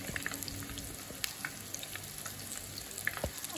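Dahi vada lentil fritters frying in hot oil, a steady crackling sizzle with scattered pops and a few light utensil touches, close and constant with no talking.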